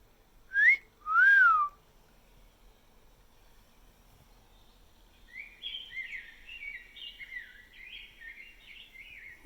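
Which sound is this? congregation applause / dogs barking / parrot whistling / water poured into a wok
parrot whistling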